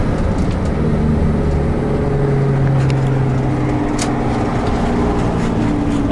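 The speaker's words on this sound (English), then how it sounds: "And that's the exhaust brake." A 1994 Toyota Coaster bus slows on its exhaust brake, giving a steady, loud, low engine drone with a constrained exhaust rumble and no talking.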